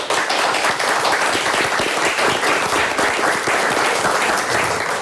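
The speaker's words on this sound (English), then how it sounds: "we'd like to thank both of our teams for joining us with another big round of applause" Loud, sustained applause from a studio audience at a high school quiz show, dense clapping filling the whole stretch without letup.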